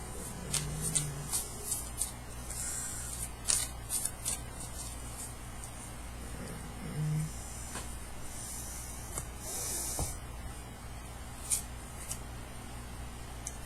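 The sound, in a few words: shuffling a deck of tarot cards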